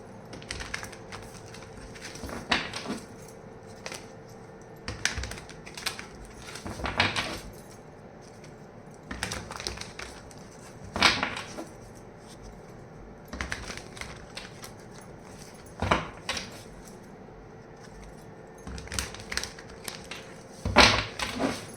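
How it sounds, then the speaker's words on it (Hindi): Tarot cards being shuffled by hand in short bursts of rustling, flapping riffles separated by quieter pauses, close and fairly soft with no talking. "तो मैं यहाँ पर कार्ड शफल करूँगी।"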